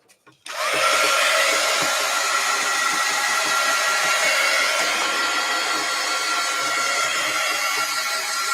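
A hair dryer blowing on acrylic paint, starting abruptly after a couple of soft knocks and then holding a loud, steady airy whine with a low motor hum.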